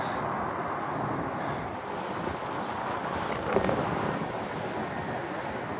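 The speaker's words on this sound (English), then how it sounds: "So it's super windy" Strong wind buffets the microphone outdoors on a corporate campus in Federal Way, Washington, a steady roaring rush with one brief gust swelling near the end, and no voices.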